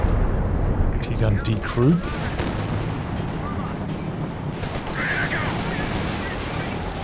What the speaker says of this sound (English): Here comes the walking Stuka.